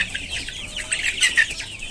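Desi hens cluck in short, overlapping bursts nearby, forming a steady, moderately loud farmyard murmur with a few sharper calls.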